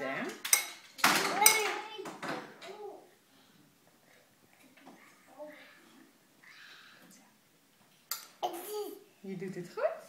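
A toddler feeds himself yogurt with a spoon from a dish at a table, with scattered clinks and scrapes of spoon on dish, loudest at the start and again near the end, while adults talk and the child babbles.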